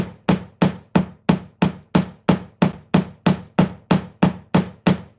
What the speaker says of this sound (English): This is a 13-ounce hammer.